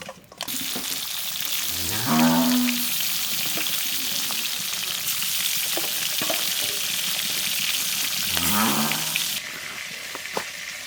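Chillies frying in hot oil in a wok, a continuous sizzle with scattered crackles, while a cow moos twice in the background.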